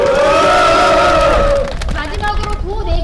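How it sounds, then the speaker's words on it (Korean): Crowd at a construction union press conference responds with loud collective cheering and voices for about a second and a half, then settles into a lower murmur with scattered calls and applause continuing. "의견문을 낭독해주신 노동님께 다시 한번 뜨거운 박수 보내주시기 바랍니다"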